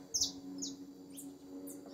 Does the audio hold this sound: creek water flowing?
no